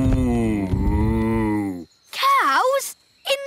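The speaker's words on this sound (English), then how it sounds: "The cows can graze in this meadow." Cartoon cows in a meadow give a long, loud, wavering moo followed by two shorter moos, close and clear with nothing else around them.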